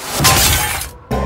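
Glass shatters outside in one loud, crashing burst of breaking shards and clatter lasting about a second, ending abruptly in a brief hush before a low rumble returns, in a Hungarian-dubbed Gummi Bears cartoon.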